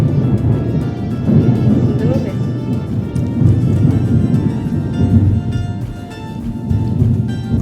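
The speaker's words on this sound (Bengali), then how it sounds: "বন্ধুরা মেঘ ডাকছে" Thunder from an evening storm rolls as a deep, continuous rumble that swells and eases throughout, loud and close, with heavy low-end energy and no clear break.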